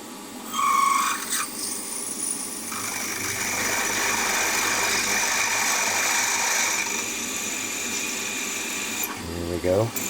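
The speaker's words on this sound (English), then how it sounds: "So I need to gently go right through with a 5mm drill." A 5mm drill bit cutting through metal on a milling machine, a steady whirring spindle hum with a high whine held for several seconds, bracketed by brief clunks and a short rising squeal near the end.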